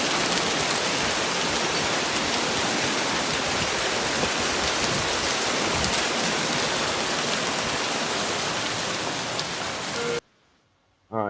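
Marble-sized hail pours onto a house in a dense, steady roar of hard impacts, loud and continuous with no talking, then cuts off abruptly near the end.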